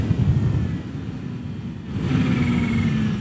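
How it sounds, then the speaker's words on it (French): A Kawasaki Z H2 motorcycle engine drones as the throttle closes, with a low mechanical rumble that dips and then rises to a steadier tone, close to the rider with no talking. "Sans parler de la sonorité quand on coupe les gaz."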